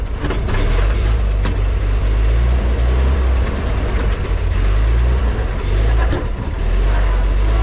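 A 1929 Buick 44 Roadster with non-synchronized gears drives along, its engine giving a loud, steady low rumble close by, with faint rattles over the drone.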